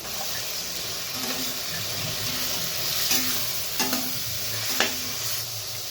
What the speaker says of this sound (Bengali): দিয়ে দেবো হলুদ গুঁড়ো, জিরের গুঁড়ো, ধনের গুঁড়ো আর কাশ্মীরি লঙ্কার গুঁড়ো দিয়ে ভালোভাবে নেড়ে চেড়ে নেব।